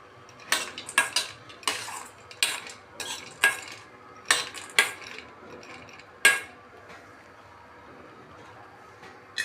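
Black raisins roast in ghee in a kadhai over low heat as a spoon stirs them, giving a series of distinct metallic scrapes and clinks about a second apart, with a faint sizzle between strokes.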